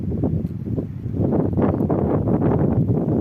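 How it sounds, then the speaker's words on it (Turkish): Gusty wind buffets the microphone, rumbling and rustling in uneven bursts that grow stronger partway through, with no voices. "Rüzgar çıktı yağmur yağacak."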